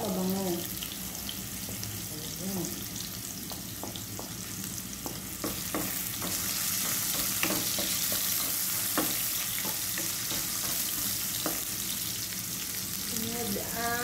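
Sliced ginger sautés in hot oil in a pan for squid adobo, a steady close sizzle with frequent scraping and stirring clinks of a utensil against the pan.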